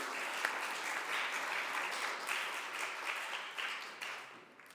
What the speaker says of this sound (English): Hold your applause till the next thing's done.